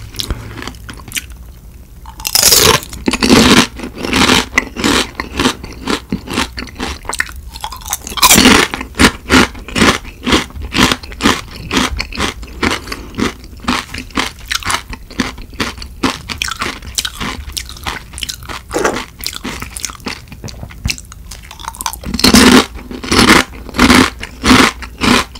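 Crispy BBQ fried pollock skin and boneless fried chicken are eaten up close, with loud, repeated crunchy bites and wet chewing in an uneven rhythm and no talking.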